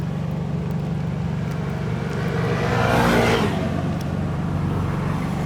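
Toyota Innova pulling away, a steady engine hum and road rumble swelling briefly as the vehicle passes close, then easing back to a constant drone with no talk.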